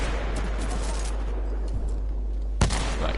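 Sniper rifle fire in Titanfall 2 sounds as mid-level distant shots over a steady low background hum, with one sharper, louder crack near the end.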